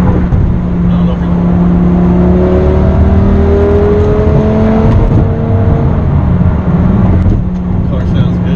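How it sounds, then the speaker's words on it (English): A Lamborghini Gallardo engine drones and revs steadily under acceleration, with rising and falling tones and a constant loud road roar, heard up close from inside the car. "Love the way this car sounds."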